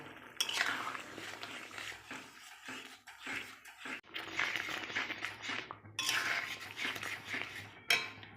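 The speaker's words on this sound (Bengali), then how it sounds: "গুঁড়ো দুধ গোলাটা আমি ঢেলে দেব" A powdered milk mixture being poured into a pan for tomato chutney, giving a soft continuous liquid wash with scattered clinks of utensils against the pan, no talking.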